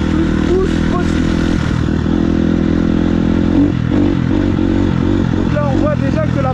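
A KTM motorcycle sits idling loudly up close, its steady engine note broken by several short throttle blips, with some clattering mechanical noise mixed in.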